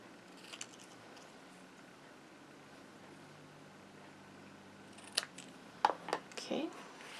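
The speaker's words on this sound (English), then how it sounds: "bring in my snips, and I'm going to snip this down" Paper card stock being trimmed with craft snips, a few crisp cuts coming in a quick cluster near the end after a quiet stretch, close and fairly faint, without talking.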